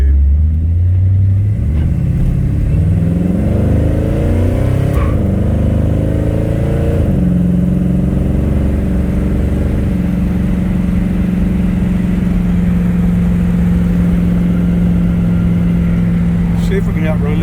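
An old car with brand-new suspension running down the road, its engine revving up through gears then settling into a steady loud drone as it cruises, heard close from inside.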